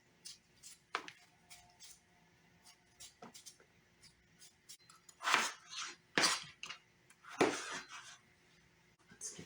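A knife cuts russet potatoes into thick-cut fries on a cutting board, giving soft irregular taps and several louder scraping, chunky cuts, all quiet and close by, with no talking.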